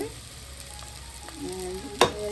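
Onions fry for a homemade chicken curry, a soft steady sizzle in the pan with a sharp clack of a spoon against the pan near the end.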